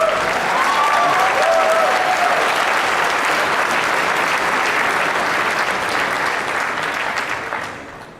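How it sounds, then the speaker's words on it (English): A large audience at a PAX East 2011 live game demo claps loudly and steadily for several seconds, a few whistles rising early, before the applause fades out. "didn't expect that to get an applause"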